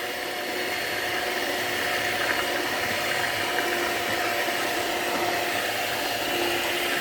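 Electric mixer running slowly as sugar is blended into a wet red velvet cake batter, a steady continuous whirring hum with a faint rhythmic ratcheting texture, close and unbroken throughout, with no voices.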